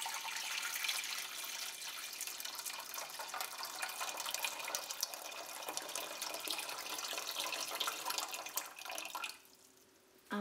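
Boiled kettle water pours steadily into a saucepan with a bright splashing rush, then stops abruptly near the end.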